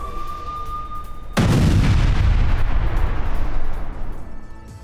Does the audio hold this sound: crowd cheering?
no